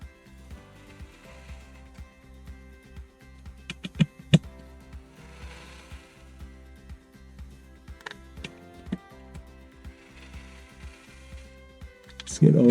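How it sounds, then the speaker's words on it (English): A DeWalt DC720 drill running on its faster mode to back screws out during a full disassembly, giving short mechanical ratcheting whirs and clicks in bursts, close by, with a louder burst at the end. "Let's get all these screws out and see what's up."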